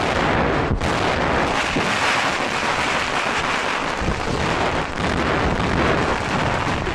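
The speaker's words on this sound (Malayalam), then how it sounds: "പേടിക്കണ്ട, മുതലാളി വെടിവെച്ചതാണ്." Firecrackers set off by the boss to clear the way explode in a loud, dense barrage that rolls on almost without pause, sounding like a string of firecrackers or gunfire close by.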